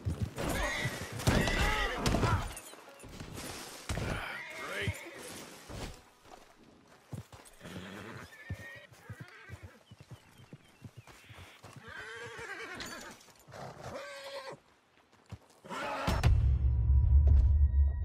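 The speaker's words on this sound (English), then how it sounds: "The horse!" Horse neighs loudly near the end in Red Dead Redemption 2 gameplay, with clip-clop hoofbeats and scattered game sounds before it; a horse whinny stands out clearly at close range.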